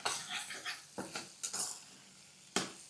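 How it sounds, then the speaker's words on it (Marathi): Moong dal roasts dry in a pan for halwa as a metal spoon stirs it, a quiet run of scraping strokes and several sharp clinks against the pan, with no speech. "डाळ चांगली भाजून घ्यायची."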